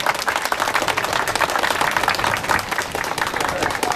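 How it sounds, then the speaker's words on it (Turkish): Steady crowd applause at an outdoor dam festival, with dense clapping throughout, fairly loud and continuous, with some voices mixed in. "alkışlıyoruz arkadaşlar"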